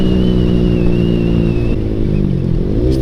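A motorcycle fitted with a 3tech Ronin Hanzo exhaust set to its racing setting revs hard and holds near the limiter, a loud, close, continuous buzzing drone that dips slightly and then climbs again.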